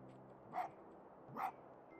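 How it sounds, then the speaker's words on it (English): The fox spirit in the video game Spirit of the North gives two short, soft barks about a second apart, faint against a quiet game background. "Oh, he's barking now."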